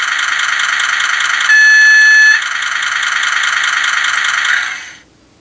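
An ESU sound decoder plays a diesel locomotive sound in an N scale Kato Mikado model, a steady rattling engine drone with a sustained tonal whine joining midway, then fading out near the end.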